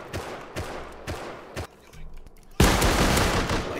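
Gunfire in the video game Rust: several sharp shots in quick, uneven succession, then a loud sustained burst of rapid fire, close and dominant.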